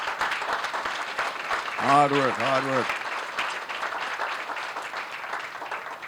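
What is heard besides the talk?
applause for the board members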